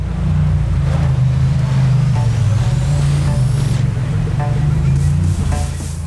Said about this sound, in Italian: nella prossima stazione sentiremo il Nettuno cantare